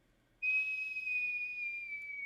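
A single clear descending whistle of an incoming mortar shell, used as a tabletop game effect, starting abruptly and holding steadily, close and alone.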